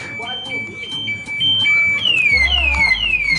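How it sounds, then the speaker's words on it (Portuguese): A car alarm sounds in the street beside a Volkswagen Golf with a loud car sound system, first a repeated steady electronic tone and then a cycling descending siren whoop, loud and close, with people talking over it. "Disparou o alarme ali"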